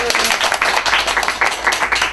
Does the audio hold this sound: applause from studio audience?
yes